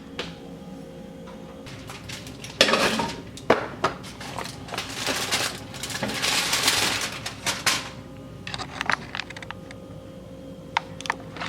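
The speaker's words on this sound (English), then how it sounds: "Now I'll take my cheesy potatoes out of the oven" A dish of cheesy potatoes comes out of an oven with a run of clattering clicks and knocks from the rack and pan, close by and with no talking.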